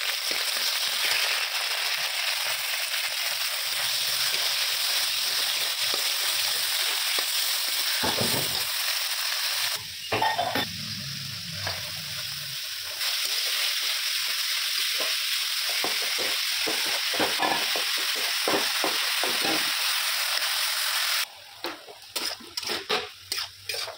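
Meat frying in a pan for homemade momo filling, a loud, steady close sizzle with stirring scrapes and a few rattling pan knocks, the hiss briefly dropping and changing as the food is moved, no speech.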